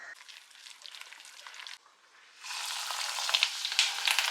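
Fritters (bora) made with besan fry in hot oil with a close, crackling sizzle. It quiets briefly after the first couple of seconds, then returns louder and denser with sharp popping.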